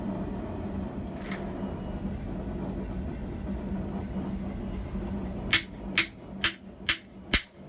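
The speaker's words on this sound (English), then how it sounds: "I'll try hammering on it with that same piece." A steady low engine-like rumble, then five sharp metallic hammer strikes on a thick metal piece in a hardy shear on an anvil, at an even pace near the end, close and loud.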